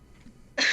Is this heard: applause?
no